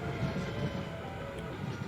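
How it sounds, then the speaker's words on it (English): A train in the video game Danganronpa: SINGLEFILE starts to move, with a quiet low rumble and faint mechanical clatter that stay steady and alone. "the train had begun to move on its own"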